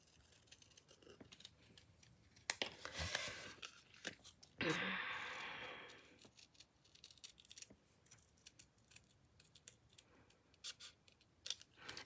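Scissors snip out a paper flower in a series of short, close, crisp cuts, with a longer tearing rustle in the middle and faint movement around it.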